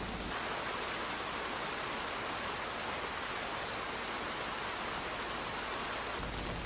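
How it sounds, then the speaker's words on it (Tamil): Heavy rain pours steadily in an anime scene, a dense, even hiss of falling water that holds constant and fairly loud throughout, with no voices over it. "இப்போ அந்த இடத்துல நல்லாவே மழை பெஞ்சுக்கிட்டு இருக்கு."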